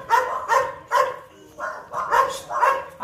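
A pitbull and other dogs barking during a socialization session, six sharp close barks in a quick uneven rhythm with a short gap midway.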